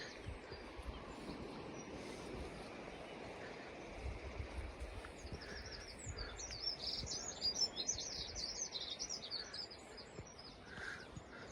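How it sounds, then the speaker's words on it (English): A juvenile magpie, just fledged, calls in blackthorn scrub at St Lawrence on the Isle of Wight, repeated harsh chattering notes in the mid-distance over steady wind and background rumble. "Juvenile magpie, probably just fledged."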